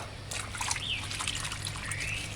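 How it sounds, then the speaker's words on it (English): Running tap water trickles steadily while vegetables are rinsed, a soft continuous splashing with a low background hum and faint clinks. "Give it a final rinse under fresh running water"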